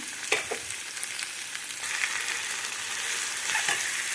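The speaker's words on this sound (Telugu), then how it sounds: "ఉల్లిపాయ ముక్కలు వేసుకుందాం పచ్చిమిరపకాయలు ఉల్లిపాయలు బాగా మగ్గబెట్టుకుందాం" Chopped onions and green chillies fry in a pan for a Telugu pulusu. A continuous bright sizzle with a few stirring scrapes sits up close and carries on without any voices.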